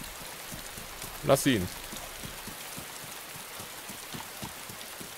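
Steady rain falling in the DayZ survival game, a constant soft hiss of drops throughout, with a brief voice speaking over it partway through.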